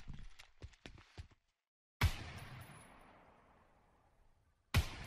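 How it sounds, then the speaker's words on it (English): Pistol shots fired outdoors in the zombie video game Contagion, two sharp loud cracks each followed by a long echo trailing into the distance, after a few soft footstep-like taps. "you can hear the bullet sound traveling to the distance"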